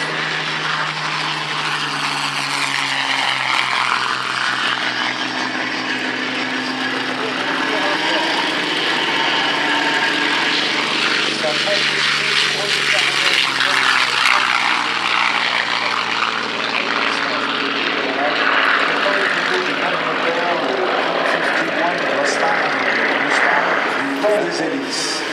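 De Havilland propeller aircraft at the La Ferté-Alais airshow, a loud, steady droning of piston engines and airscrews sustained throughout, with a voice faintly underneath.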